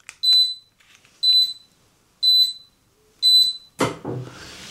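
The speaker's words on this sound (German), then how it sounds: "Dieses Piepsen, es ist unangenehm laut." A MettleMatic TW1 walking pad treadmill gives four loud, high electronic beeps, evenly spaced about a second apart, followed by a brief rustling thump.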